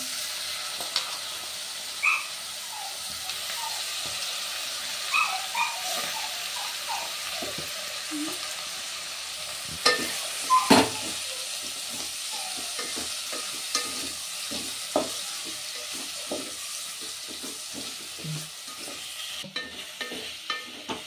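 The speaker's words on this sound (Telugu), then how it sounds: "చూడండి, ఇట్లా వేపుకుందాం. మంచిగా నూనె అల్లం వెల్లిగడ్డలా మంచిగా వేగాల బోటి." Cleaned, boiled goat tripe frying in oil with ginger and garlic, a steady soft sizzle broken by frequent scraping stirs and small clinks from the pan, close and alone with no talk.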